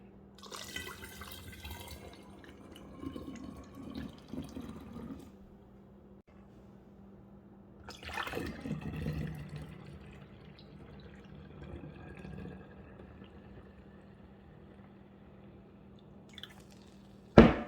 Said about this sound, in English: We're gonna put our juice into the wine bottle inside it.